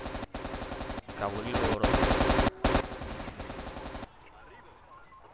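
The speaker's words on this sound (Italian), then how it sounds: "stanno già iniziando a sparare, ma stanno sparando sui corazzati" Gunfire in a war video game, with troops shooting at armored vehicles. Dense, loud bursts of rapid shots and machine-gun fire run in blocks, then cut off into quieter battlefield ambience, with brief talk over it.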